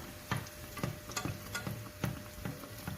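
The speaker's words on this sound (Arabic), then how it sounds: "نطيبو كيما السفنج ونبدا نرمي عليه الزيت" Dough for fricassée frying in hot oil, close and fairly quiet, with bubbly sizzling and a regular series of sharp pops and crackles roughly every half second, and no voices.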